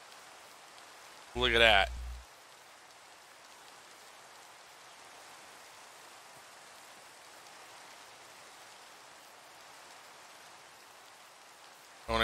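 Steady soft rain falls in a Minecraft game world, a continuous gentle hiss with a brief spoken remark early on.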